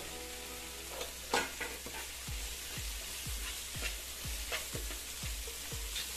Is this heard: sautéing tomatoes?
yes